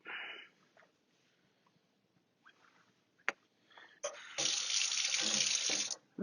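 A tap runs loudly for about two seconds, rinsing a freshly soldered copper wire at a jewelry-making bench. Softer handling noises and a brief sharp clink come first.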